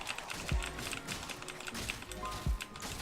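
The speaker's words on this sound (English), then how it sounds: "So probably a lot of keys you're hearing click." Computer keyboard keys clicking during Warframe gameplay, a dense patter of quick taps over game sound with a couple of heavier low thumps.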